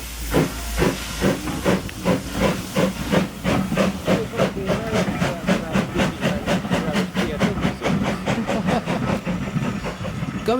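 A steam locomotive approaches with loud, continuous hissing steam over a chuffing beat that quickens and grows denser, the rhythmic exhaust beats and rail-traffic rumble carrying on throughout without voices.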